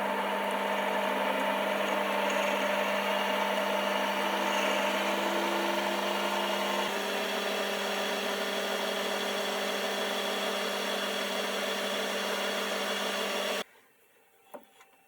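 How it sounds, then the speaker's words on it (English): A metal lathe faces off the end of a knurled bar and drills a hole into it, a steady whining motor hum with a shift in tone midway, then cutting out abruptly near the end. "So first of all, I'll face this off and drill the hole."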